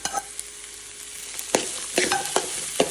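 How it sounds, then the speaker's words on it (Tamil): Vegetables for veg fried rice fry in a little oil, a soft steady sizzle broken by several sharp spatula scrapes and knocks against the pan, close and with no talking. "கொஞ்சம் ஆயில் போட்டு எல்லாத்தையும் இதில் கொட்டிட்டேன்"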